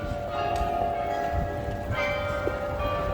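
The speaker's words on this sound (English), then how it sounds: "Those bells are cool." Bells ringing across a city square in Enschede, steady tolling tones held over a constant hum of outdoor street noise, with no talk.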